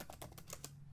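Quick keystrokes on a computer keyboard while entering text, several close, soft clicks in a short, even burst.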